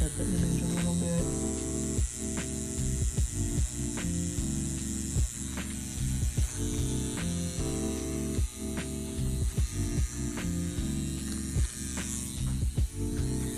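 A tattoo machine buzzes continuously while a rose is tattooed, a steady close mechanical hum with faint clicks and small shifts in pitch throughout.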